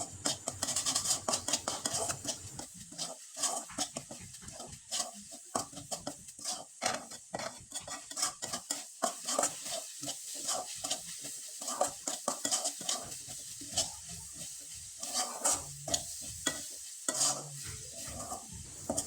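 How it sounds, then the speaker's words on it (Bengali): Grated coconut filling for a duck-shaped pitha being stirred and scraped in a pan, a long run of rapid, irregular metal-on-pan scrapes over a soft sizzle. "খুব ভালোভাবে নেড়ে চেড়ে এই পুরটাকে তৈরি করে নিতে হবে"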